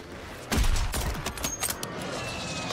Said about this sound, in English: There's a whole team on that wall up there trying to shoot us.